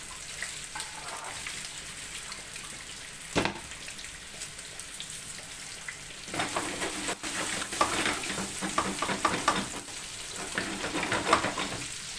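Steady sizzling and crackling of meatballs and chopped peppers frying in a pan fills the clip, with occasional clinks and stirring sounds close by.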